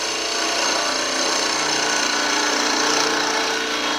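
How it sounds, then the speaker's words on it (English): Wood lathe turning a thistle top on a wooden spurtle, a continuous loud broadband whirring and scraping of the cutting tool on spinning wood, steady throughout with no talk. "Now all I gotta do is fairly simply turn a thistle at the top."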